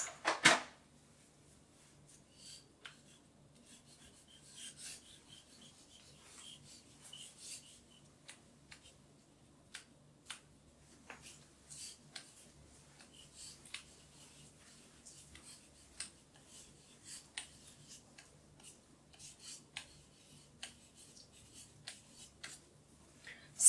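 Writing on a board during a French grammar lesson, heard as faint, scattered scratchy strokes and taps spread across a quiet room.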